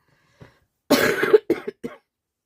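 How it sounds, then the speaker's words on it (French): A man coughs several times in short bursts: one faint cough, then a loud harsh cough followed by two or three weaker ones, close to the microphone with no other sound. "Je tousse encore un peu"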